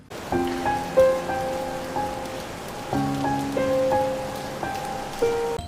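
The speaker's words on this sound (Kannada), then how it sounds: "ಮಳೆ ಬೇರೆ ಬರ್ತಾ ಇದೆ" Steady rain falls in Mysuru, a soft, even hiss that runs through the whole stretch while clear melodic tones ring out above it.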